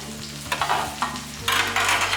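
Onions sautéing in a pan for curry leaf thokku, sizzling steadily while a spatula scrapes and stirs in a few strokes, with a low background hum.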